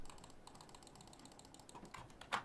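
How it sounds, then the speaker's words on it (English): Quick, steady clicks on a computer keyboard and mouse, faint and close, in a rapid irregular patter with a slightly louder burst at the end. "they can hear my constant clicking"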